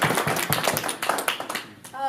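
An audience at a Charlotte city officials event claps in a loud burst of dense, overlapping hand claps, easing off briefly near the end before rising again.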